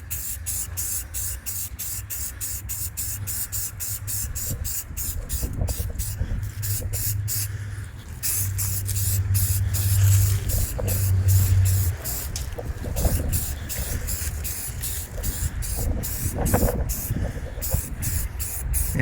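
A spray gun lays white automotive filler paint onto a rough, layer-lined part, producing a steady hissing spray, with a rhythmic ticking and low background rumble throughout.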